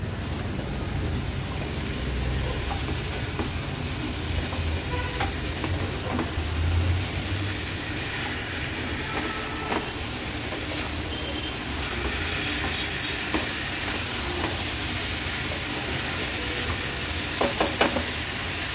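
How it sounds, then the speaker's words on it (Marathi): Potato and val bean curry with tomato is stirred in sizzling masala, a dense, continuous frying hiss with soft scraping strokes of the spoon, close and steady throughout, no speech. "भाजी व्यवस्थित मिक्स करून घ्यायची आहे मसाल्यात।"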